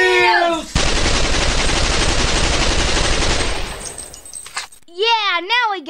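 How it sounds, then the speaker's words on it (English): A long, loud sustained burst of MP5 submachine gun fire at close range, lasting about three seconds before fading, with speech-like voices before and after. "I distinctly hear gunshots. That sounds like an MP5."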